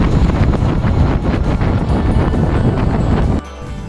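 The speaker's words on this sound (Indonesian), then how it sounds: "Punya angin kuat ni." Strong wind roars loudly over the microphone while riding a Royal Alloy GP 125 scooter at about 80 km/h, a steady broadband rush that drops abruptly near the end.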